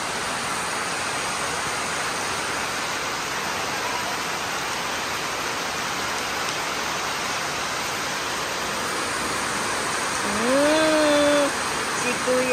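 Heavy rain pours steadily at an ancestral house in the Philippines, a dense, even roar that holds throughout, with a brief voice near the end.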